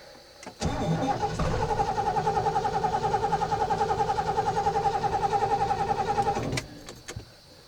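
A 1972 Lincoln Continental's engine cranks on a cold start with a loud, rhythmic starter churn lasting several seconds, then cuts out without catching, followed by a few clicks.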